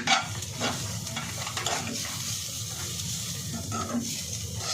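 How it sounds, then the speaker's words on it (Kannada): Pepper powder frying in a pan for momo filling, heard as a quiet, close sizzle with a few stirring scrapes near the start and a low steady hum underneath. "ಒಂದು ಹಾಫ್ ಟೇಬಲ್ ಸ್ಪೂನಷ್ಟು ಪೆಪ್ಪರ್ ಪೌಡರ್ ಈಗ ಫ್ರೈ ಮಾಡೋಣ"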